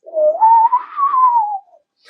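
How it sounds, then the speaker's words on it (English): A person whistles one smooth, sustained note that glides upward and then eases back down for about a second and a half. It is close, clear and alone, and silence follows. "My whistling hasn't gotten any better."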